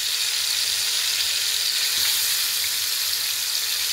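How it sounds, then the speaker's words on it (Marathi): Chicken pieces shallow frying in hot oil over a medium flame for tandoori chicken give a steady, bright hiss of sizzling that stays even and close throughout, with no talk. "मीडियम फ्लेमवर आपण ह्या आधी चिकनचे जे पीसेस आहेत ते शॅलो फ्राय करून घेणार आहोत"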